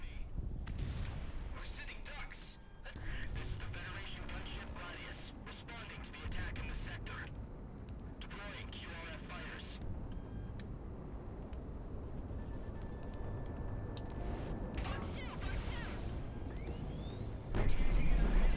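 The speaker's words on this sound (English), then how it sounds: "hopefully that'll just wipe all these guys out because it's the burst missiles" Burst missiles explode in Project Wingman in a series of sharp booms and crackling detonations, scattered across the clip with a louder blast at the end.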